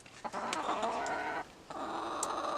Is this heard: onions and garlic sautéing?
no